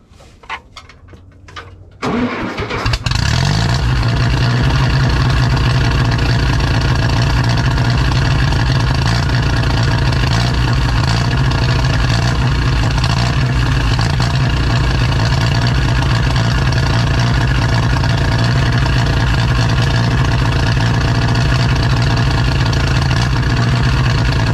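A 1950s Ferguson TO-30 tractor engine cranks briefly, catches and then runs steadily at a loud, close idle with a constant low rumble for the rest of the time, no voices present.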